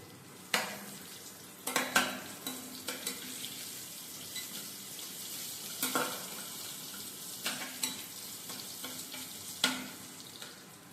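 Ridge gourd pieces fry with onions in a pan for a bachelor-style curry, giving a steady close sizzle with a few sharp clacks of a spoon stirring against the metal, no voices.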